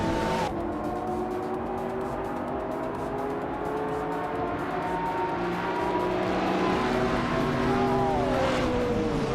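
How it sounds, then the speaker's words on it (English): Race cars on the Calabogie track in a racing video game, led by a 1998 Porsche 911 993 Turbo S, with steady loud engine drone and rising and falling revving tones throughout. "driving a classic 1998 Porsche 911 993 Turbo S"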